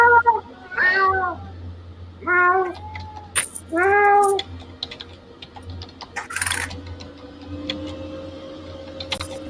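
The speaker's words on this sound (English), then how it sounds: "sounds like a cat." A cat meows several times close by, drawn-out and varied cries in quick succession, mixed with soft clicks and light background handling noise; a person's voice is faintly present.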